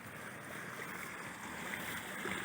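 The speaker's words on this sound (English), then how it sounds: "Pretty good flow of water." Water running through an irrigation line outdoors, a faint, steady rushing flow with no talking.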